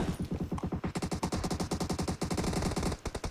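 A shotgun fired in a rapid run of loud, close, sharp blasts repeating in a steady rhythm for several seconds, with no voices.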